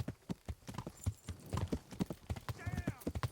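Horse hooves clip-clop on the ground in the medieval game Kingdom Come: Deliverance, a brisk, uneven run of hoofbeats heard close, with soft voices underneath.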